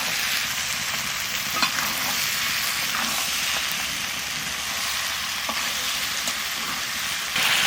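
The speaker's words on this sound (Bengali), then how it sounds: "ইঁচড়ের সাথে আর একটু কষাবো" Steady loud sizzling of young green jackfruit stir-frying in a pan, with occasional scraping stirs of a utensil and no voices.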